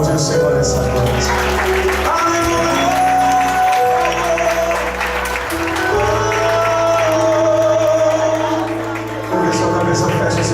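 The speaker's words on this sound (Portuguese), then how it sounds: "Pode aplaudir o Senhor nessa noite" A church congregation at a Sunday youth congress applauds over loud worship music, sustained clapping blending with sung and spoken voices throughout.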